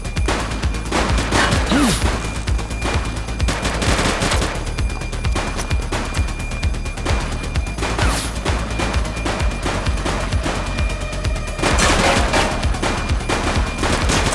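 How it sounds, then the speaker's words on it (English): Repeated gunshots in the police game The Precinct, sharp bursts and volleys of gunfire recurring throughout a chaotic shootout, loud and close. "Shots fired!"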